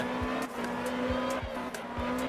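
A car drifts in the video game Absolute Drift, its engine holding a steady whine while repeated short tire squeals and skid swooshes break in at intervals, fairly quiet and with no talk.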